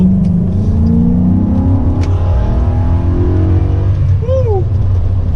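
Supercharged 1995 BMW E34 530i with a 540 engine swap revving hard from inside the car, a loud, dense engine roar that climbs and falls in pitch through several sweeps, with a brief voice near the end.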